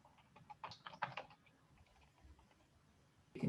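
A computer keyboard is typed on in a quiet room: a quick cluster of faint clicks early on, a pause, then a louder clack at the end.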